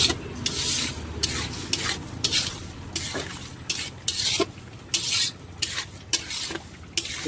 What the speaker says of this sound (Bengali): সবগুলোকে ভালো করে একবার মিক্স করে নেব